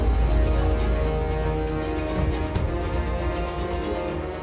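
Steady rain falls in a dense, even wash with a low rumbling bed underneath, loud and continuous and with no talk in the clip.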